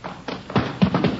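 A front door is rammed in a radio drama, giving a few heavy, muffled thuds close by in quick succession.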